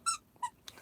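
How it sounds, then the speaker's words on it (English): A dog chews a squeaky toy, giving three quick, high, faint squeaks in under a second against a quiet background. "sorry about all the squeaking, but that's my dog."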